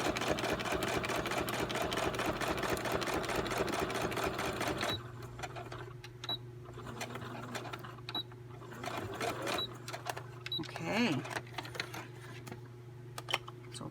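A sewing machine whirs in a rapid, steady stitching run through paper, then stops, leaving quieter clicks, taps and short mechanical sounds.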